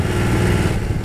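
Light high-revving engine drone on the Valico di Chiunzi mountain pass road near the Amalfi Coast, loud and close and steady for about a second, with no voices.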